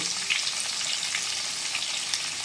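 Turmeric powder dropped straight into hot oil for a mutton curry, making a loud, continuous hiss and sizzle up close with small crackles and no voices.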